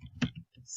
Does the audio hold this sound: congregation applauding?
no